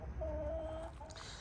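A chicken gives a short, soft clucking call close by, brief and slightly drawn out against low background rumble.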